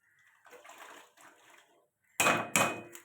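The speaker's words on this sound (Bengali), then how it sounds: "কড়াই জল দিয়ে এবার কুমড়ো ডাঁটাগুলো দিয়ে দেবো" Pumpkin stems go into a wok of water on a lit gas stove, with two sharp, loud splashing clatters close by after a stretch of softer rustling.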